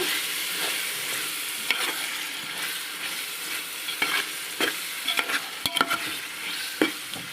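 Tomatoes, about a quarter kilo, fry and get stirred in a pan for bagara rice, giving a steady sizzle broken by scattered spoon scrapes and clicks against the pan, close up with no talking.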